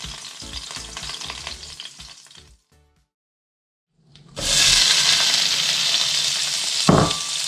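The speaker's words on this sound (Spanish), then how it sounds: "Aquí subimos el fuego a fuerte y freímos durante unos 5 o 7 minutos" Iberian pork secreto frying in a pan over high heat: steady loud sizzling, a quiet gap of about a second and a half, then an even louder, denser crackle resuming with a brief clatter near the end.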